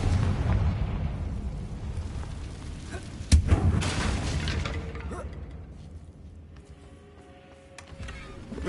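A Confringo spell explodes in Hogwarts Legacy, played on PS5. One sudden loud blast hits over a low rumbling bed, then decays into a fading, quieter tail.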